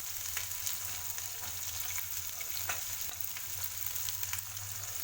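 Onions fry in a pan for a savoury khara bath dish with a continuous, fairly quiet sizzle and crackle, with occasional small pops and no voices.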